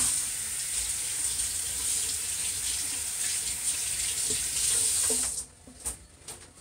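Spirit weed leaves being washed under a running kitchen tap, a steady loud rush of water for about five seconds, then it cuts off, leaving a few soft drips and handling sounds.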